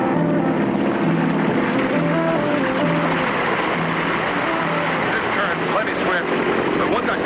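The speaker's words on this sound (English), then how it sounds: "We'll keep the engine running to force us against the current and hold us from going over the falls." Seaplane engine droning steadily while the plane sits on a river just above a waterfall, a loud continuous roar with rushing water and wind underneath, and voices speaking over it.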